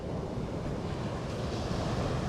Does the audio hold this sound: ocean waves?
yes